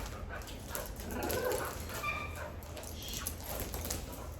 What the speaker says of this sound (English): So like growling right there, that's just play sound.